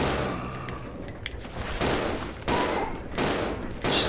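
Bursts of gunfire in the survival horror game Resident Evil 0, several loud volleys of shots following one another over steady game background noise, with no talk.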